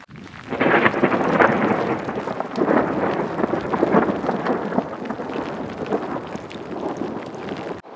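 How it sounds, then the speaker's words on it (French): Mountain thunderstorm on the Ausangate trek in Peru, a long rolling rumble of thunder over dense rain and hail hitting around, with wind, close and loud, with no voices. "Beaucoup de grêle, beaucoup de tonnerre, mais pas d'éclair."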